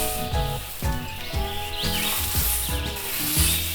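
A blade sliding and rubbing along grassy ground in a vegetable garden, a series of rhythmic scraping swishes, close and fairly loud, with a faint bird call in the background.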